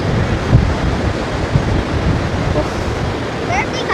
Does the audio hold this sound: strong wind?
yes